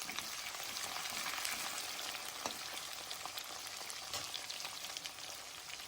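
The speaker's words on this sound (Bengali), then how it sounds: "পেঁয়াজটা দিয়ে একটু নাড়বো।" Chopped onions sizzle steadily in hot oil with bay leaves while being stirred for a chicken curry, a dense, even frying hiss close by with occasional scraping clicks.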